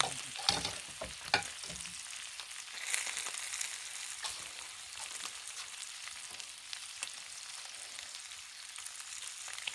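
Buttered sandwich buns toasting on a Blackstone griddle give a steady soft sizzle, with a few sharp scraping clicks early on, and no talking.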